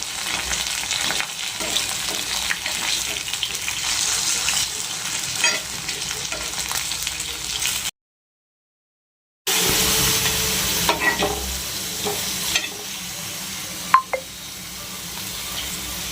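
Sago pearls frying and spluttering in a pan as they are stirred, a steady close sizzle with scraping strokes, broken by a brief pause before the frying resumes.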